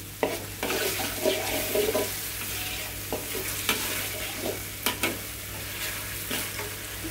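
Sautéed spice paste with belacan and anchovies stir-fried in oil with seasoning powder, salt and curry leaf powder, a steady sizzle broken by repeated scrapes and knocks of the spatula, with no talking.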